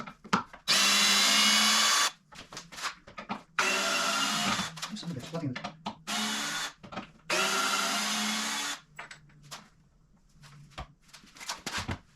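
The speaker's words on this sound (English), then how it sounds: "Got a few screws to take out here." A power drill backs screws out of a worn wooden workbench in several loud, whining bursts of a few seconds each, with quieter handling noise and brief talk in the gaps between runs.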